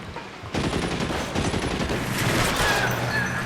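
Rapid bursts of pistol gunfire in the video game L.A. Noire, dense overlapping shots crackling continuously for about three seconds after a brief quieter lead-in.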